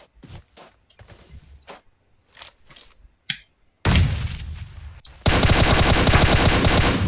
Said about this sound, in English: managing to get a few rounds in, nothing conclusive. And that sounded pretty close.